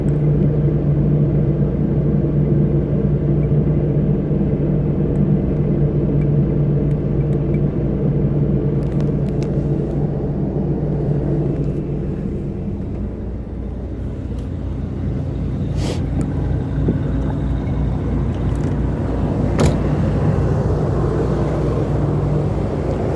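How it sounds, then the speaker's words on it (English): A Fleetwood Bounder Class A motorhome's generator runs steadily for over twenty seconds, a loud, constant low rumble and hum that barely changes, with no talking. "See if we can get the generator going."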